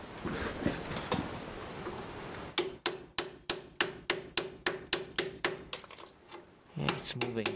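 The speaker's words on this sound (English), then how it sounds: "give a kick with a small hammer" Small hammer tapping metal to free a stuck car part during a rear brake repair: a run of about a dozen evenly spaced, sharp clinks at close range, preceded by quieter fiddling and ending in a quick cluster of taps.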